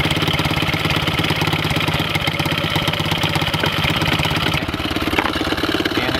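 Pit bike engine idling while it warms up, a steady, close and fairly loud mechanical putter with an even rapid rhythm that holds throughout, dipping slightly near the end.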